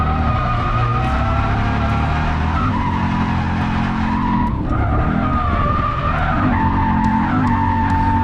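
A Subaru BRZ circles a racetrack with its tires skidding and squealing over a continuous loud engine drone, the pitch rising and falling through the turns. No one speaks.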